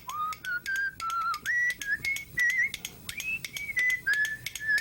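A man, a whistle-off contest winner, whistles a lively tune with clean sustained notes stepping up and down in pitch, punctuated by short breaths, close and solo with no talking.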